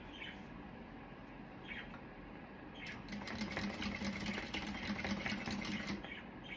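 An electric sewing machine stitches a seam with a fast, even mechanical rattle that grows louder and steadier partway through, running alone with no talking.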